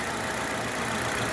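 A Citroën C car engine idles quietly and steadily, a low, even mechanical hum with faint ticking texture, heard alone at close range.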